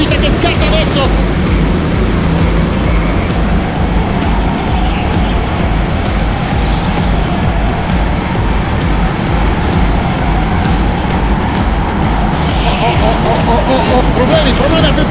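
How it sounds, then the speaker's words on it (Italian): Formula 1 cars roar off the line at the start of the Saudi Arabian Grand Prix, a dense, loud continuous engine roar mixed with crowd hubbub and a commentator talking excitedly over it. "allo spegnimento il via del Gran Premio dell'Arabia Saudita che scatta adesso"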